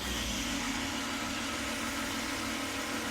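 An MTL XC8 brush cutter engine idles down, a steady close mechanical drone with constant vibration running evenly throughout, no talk over it.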